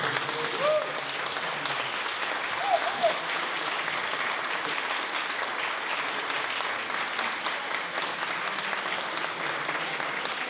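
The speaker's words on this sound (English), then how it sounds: "I promised you the opportunity to applaud with gusto." An audience at a town council and mayoral candidate forum applauds in sustained, even clapping for about ten seconds, fairly distant and moderate in level, with a couple of brief voice-like sounds early on.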